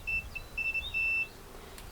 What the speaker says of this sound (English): when I touch that one right there, it makes a beep